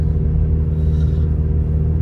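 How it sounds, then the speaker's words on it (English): A car engine idles while warming up during a snowstorm in Big Bear, California, as a steady, low, even rumble that sounds close and runs unbroken, with no speech over it. "waiting for the car to warm up"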